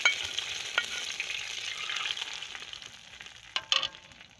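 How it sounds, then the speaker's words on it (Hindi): Tadka tempering sizzles steadily in a pan while chicken haleem is cooked, a dense broadband hiss with a few sharp crackles and pops, loudest at the start and near the end. "अभी ये तड़का लग रहा है।"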